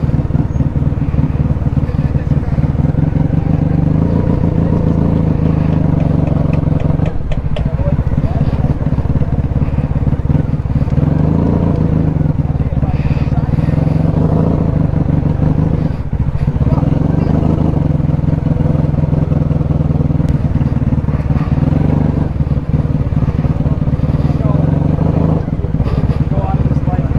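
Honda Magna motorcycle engine running loud and steady throughout, a continuous low rumble with slight swells in revving, with a voice talking over it.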